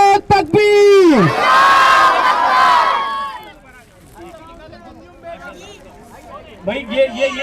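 At a congratulatory gathering honoring successful students, one voice calls the Nara-e-Takbir slogan and a large crowd roars back in a loud, sustained shout, followed by looser crowd chatter and voices.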